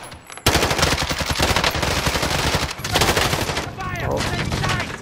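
Heavy enemy gunfire in a video game, sustained rapid automatic bursts close and loud for several seconds, with brief pauses and overlapping shots.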